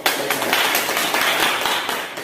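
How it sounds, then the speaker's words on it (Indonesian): Close, loud classroom applause from a small group of students, with brisk uneven clapping that continues throughout the short stretch. "Oke, beri tepuk tangan yang untuk"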